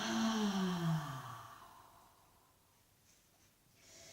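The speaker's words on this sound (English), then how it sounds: "take a big breath in. Exhale." A slow, deep, audible breath during a yoga session, close and fairly loud at first, then tapering into quiet, with faint soft breathing near the end.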